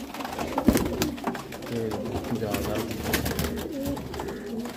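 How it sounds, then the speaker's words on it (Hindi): Golden pigeons at a pigeon sale in Amritsar, Punjab, cooing in soft low murmurs amid a busy background, with someone talking over them and a brief louder clatter near the start. "ये देखो गोल्डन कबूतर"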